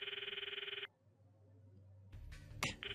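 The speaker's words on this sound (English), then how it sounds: "I stop the video and call Mayuri's phone from my address book." In the Steins;Gate video game, a phone rings out while calling Mayuri, a pulsing electronic ring that cuts off abruptly after under a second, followed by near-silence and then other clattering game sounds.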